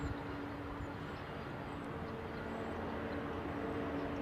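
Steady low jet airliner rumble at airport during taxi, continuous engine drone with a constant hum, moderately distant and unbroken, no talk over it.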